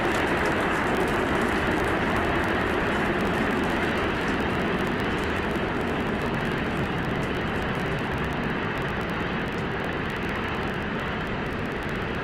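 SpaceX Starship booster on its second flight with its 33 Raptor engines firing, heard as a continuous, dense, loud roar and crackle holding unchanged throughout with no talk over it.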